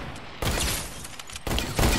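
Fortnite gunfire during a sniper shootout: loud bursts of shots that cut in and out in two dense stretches with a short gap between them.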